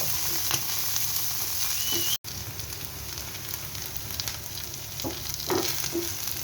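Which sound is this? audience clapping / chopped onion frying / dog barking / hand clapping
chopped onion frying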